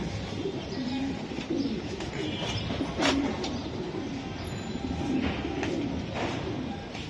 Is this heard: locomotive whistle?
no